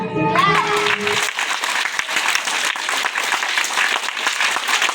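Schoolchildren at a morning assembly burst into dense, sustained clapping that fills the space evenly after a brief moment of voices and a tone at the start.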